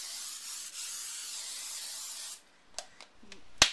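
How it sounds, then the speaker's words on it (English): Cooking spray hisses steadily onto a Jade Reproduction 13x9 baking pan in a home kitchen, a continuous close spray for over two seconds, then stopping, followed by a few light clicks and taps of the can and pan. "I'm just going to spray it so this can come out easily"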